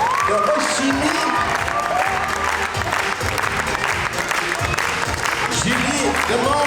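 A concert crowd keeps up dense, continuous clapping for teachers from French lycées in the Asia-Pacific region at Chorasies 2023, with some cheering and crowd noise layered over the applause.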